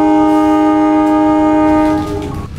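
Madiun Jaya passenger train, rated for a 120 km/h top speed, sounds a loud sustained multi-tone horn that holds steady and then fades as the train rumbles past, with no voices.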